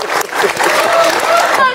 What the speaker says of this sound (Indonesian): tepuk tangan lu dong buat dua pejabat kita saat ini